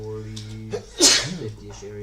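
A single sharp sneeze bursts out in the middle of a man's speech, with talk continuing before and after.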